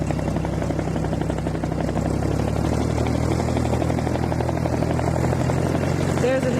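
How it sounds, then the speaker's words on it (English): A nearby airplane takes off, its loud engine drone rumbling steadily and unbroken throughout. "There's an airplane taking off to my left. That's where most of this noise is coming from."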